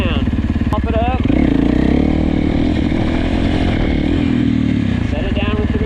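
Dirt bike engine revving loud and close as the rider pops a wheelie and sets the front down with the rear brake, the pitch climbing and holding steady, with a voice talking over it.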